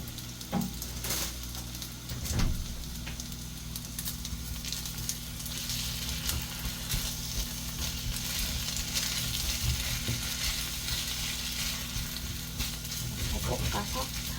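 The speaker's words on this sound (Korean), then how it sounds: "이렇게 볶아서 밥을 만들어 줄게요." Rice and food stir-fry with sauce, sizzling and crackling in a hot frying pan, with occasional scraping stirs and clanks, steady and fairly close, no one talking.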